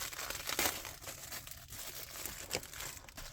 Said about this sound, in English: We got our tin foil.